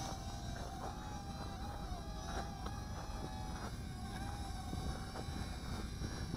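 Gteng T908W micro FPV drone hovering and descending indoors, a steady high-pitched whine of tiny propellers with a wavering motor tone, continuous and fairly faint under a constant hum.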